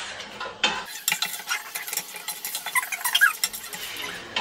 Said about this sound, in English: So I'm just searing this now,